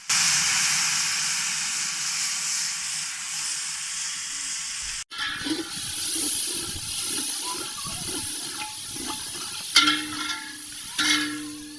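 Ground garlic, ginger, green chillies and 1.5 kg of red tomatoes frying in a large cooking pot for a chicken and peas dish, with a loud continuous hiss and sizzle, then a break followed by scraping stir sounds and clanks.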